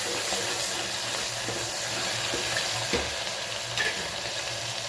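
Tomatoes with asafoetida fry and are stirred in a pan, giving a dense, constant close sizzle with a few soft scrapes of a spoon and no talking.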